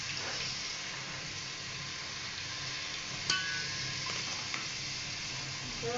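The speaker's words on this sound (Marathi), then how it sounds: "थोडंसं फ्राय करून घ्यायचं." Onions and tomato fry in a pan for chicken masala, giving a steady, quiet sizzle throughout with a couple of faint clicks of stirring.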